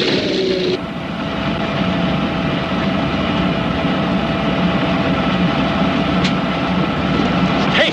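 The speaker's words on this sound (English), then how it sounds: "Stop! There are planes coming!" Planes approach overhead with a loud, steady engine roar that fills the scene and stays constant without fading.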